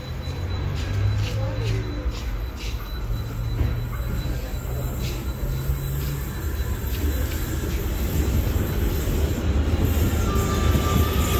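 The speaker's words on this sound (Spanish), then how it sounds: "vamos a esperar que llegue uno de los trenes" A Lima Metro Line 1 train pulls into Pumacahua station, a rumbling roll under repeated high, piercing wheel squeals, with someone speaking nearby.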